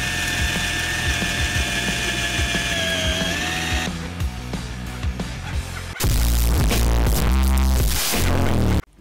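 A metal drill bit bores a hole through wood in a DIY chainsaw-engine build, with a steady close whirring drill for about four seconds, then changing, louder grinding bursts that stop abruptly near the end.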